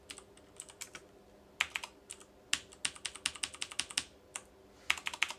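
Someone types on an AT keyboard connected through a USB to PS2 to AT adapter chain on a retro PC running DOS, producing close, crisp, irregular clusters of rapid keystrokes with no talk.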